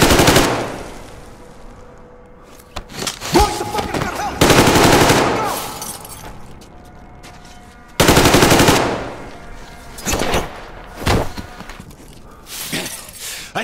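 Gunfire in the Metro Exodus video game: loud rapid automatic bursts alternating with single sharp shots and breaking-glass crashes, separated by quieter gaps.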